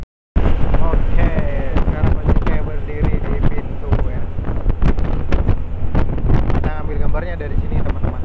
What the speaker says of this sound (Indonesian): anginnya lebih dahsyat